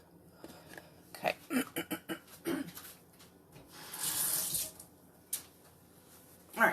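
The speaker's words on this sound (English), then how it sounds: "let me wash the knife off real quick" Knife rinsed under a running kitchen tap, with gurgling splashes as the blade moves through the stream and a longer burst of water rushing into the sink, fairly close and quiet.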